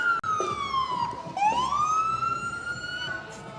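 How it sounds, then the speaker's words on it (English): An emergency vehicle siren wails nearby at a state fair parade, its pitch sweeping down then rising again, loud over a faint crowd murmur. "I love to hear the sirens"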